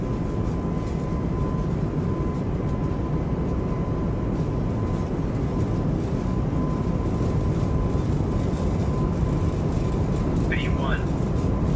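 Airbus A220 jet engines at takeoff thrust in Microsoft Flight Simulator 2024, a steady, loud broadband roar with a faint high whine, continuous throughout with no pauses.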